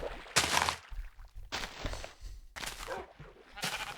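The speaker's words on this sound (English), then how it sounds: "Hello, sheep." Several sheep bleat in a farming video game, four separate loud calls spaced roughly a second apart with quieter gaps between them.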